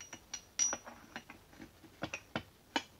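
Hardened, hobbed gears in a Sheldon lathe apron are turned by hand, giving close, quiet metallic clicks and ticks at an uneven pace with no voices.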